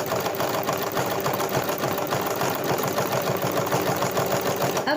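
A domestic sewing machine stitches a zigzag embroidery line with a fast, steady mechanical rattle, close and continuous throughout, with no talk over it.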